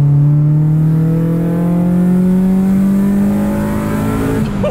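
A Honda Civic accelerates hard in third gear, its loud, close engine tone climbing steadily in pitch for several seconds before easing off.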